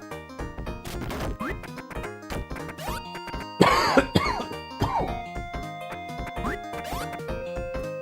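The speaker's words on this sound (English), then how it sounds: "sorry, I'm old. Cough a lot." Coughing from an older adult during an exercise routine, occurring as bursts amid background sounds, with one louder, harsher episode near the middle.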